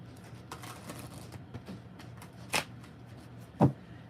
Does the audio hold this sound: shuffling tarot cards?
yes